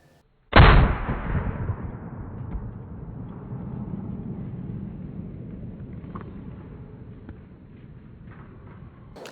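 A single loud gunshot from a Taylor's & Co. Alaskan .44 Magnum revolver firing a hollow point round at an outdoor range, a sharp close blast that leaves a long, slowly fading roar and rumble.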